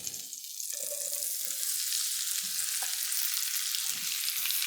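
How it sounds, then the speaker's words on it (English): Ten ounces of sliced cremini mushrooms fry in a pan with a steady, close hiss and sizzle that grows slightly louder after the first second and continues without talking. "I have here 10 ounces, which is 280 grams of sliced cremini mushrooms"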